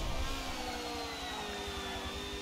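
A small ATV engine revving high and steady in Forza Motorsport 7, a continuous buzzing whine with a slowly falling pitch.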